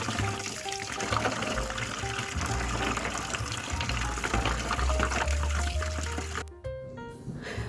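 Running water pours steadily over clay oil lamps being washed, a continuous close splashing and trickling that cuts off sharply near the end, leaving brief faint clinks.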